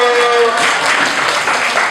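Children clap together in a short burst of applause, following a brief voice at the start.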